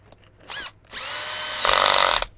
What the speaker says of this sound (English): that horrible noise is because my drill was set on the highest speed